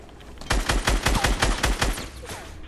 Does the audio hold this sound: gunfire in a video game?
yes